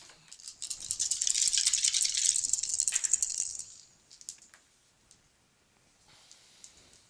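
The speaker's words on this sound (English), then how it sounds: "So then we're going to roll our dice." Dice rolled for a board game, a bright clattering rattle for a few seconds that tumbles to a stop, followed by a few soft clicks and quiet.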